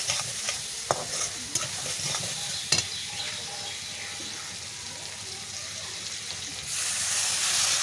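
Fish with potato simmering and being stirred in a pan after turmeric and a little water go in, a steady soft sizzle and hiss with a few sharp utensil clicks near the start, growing slightly louder toward the end.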